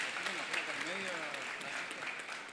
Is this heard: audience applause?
yes